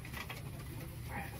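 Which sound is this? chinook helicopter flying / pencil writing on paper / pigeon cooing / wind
pigeon cooing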